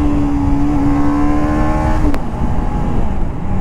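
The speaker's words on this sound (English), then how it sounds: "Okay, I'm gonna downshift." A TVS Apache RR 310 Gen2 motorcycle downshifts through its slipper clutch, the engine's steady loud drone stepping down in pitch with a sharp click of the gearchange, close up with no talk.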